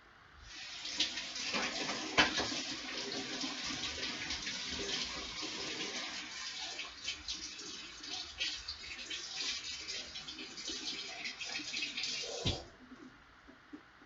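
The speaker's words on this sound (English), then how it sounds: "I'm going to rinse my hands off." Kitchen water tap running as hands are rinsed under it, a steady hiss of flowing water with splashes from the hands, then shut off near the end; no talking.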